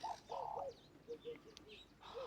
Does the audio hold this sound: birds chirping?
yes